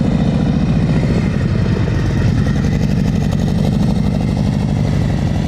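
A motorcycle engine runs at slow speed with the throttle held steady, giving a loud, close, even chugging rumble with a fast regular pulse throughout.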